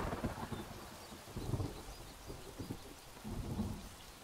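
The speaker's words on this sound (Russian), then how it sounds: "И опять дождь у нас." Rain and low rolling thunder in the video game Craft The World, soft and fairly faint, with a steady patter and a few muffled rumbles swelling and fading.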